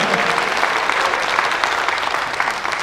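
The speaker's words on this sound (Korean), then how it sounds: "박수 쳐주세요" Audience applause at a Chief Teachers' Day ceremony, a loud, dense and continuous round of clapping from a large crowd that holds steady throughout without any break.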